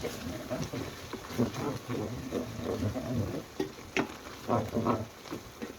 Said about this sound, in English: So I like to cook my spices before I put them in liquid.